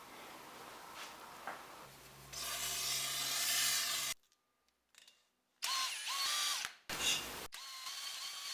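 A reamer is run through a drill bushing on a hydraulic press being restored, giving bursts of loud, hissing, grinding power-tool noise broken by short pauses and a sudden stop.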